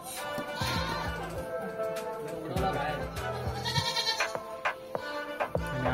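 Goats in a shed bleat repeatedly at close range, several short cries spread through the clip over low background noise and faint voices.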